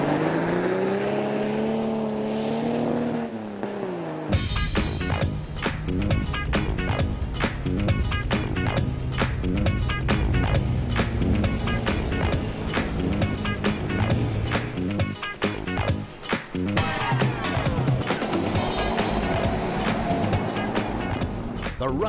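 A Toyota 55 Series and a Jackeroo 4WD race toward a beach exit, their engines droning and revving loudly and continuously, with rough rumbling and a voice talking early on.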